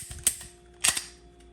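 Taurus TM-9 pistol dry firing, two sharp close mechanical clicks about half a second apart, heard alone in a quiet room.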